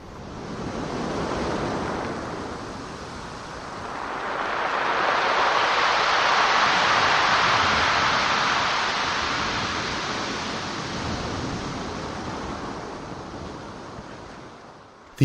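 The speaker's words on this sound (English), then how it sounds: "These sounds of the ocean" Pacific ocean surf rolls in alone, a broad roaring wash that swells to a peak midway and slowly recedes, with a breezy hiss throughout.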